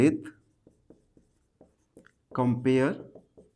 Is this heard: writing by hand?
yes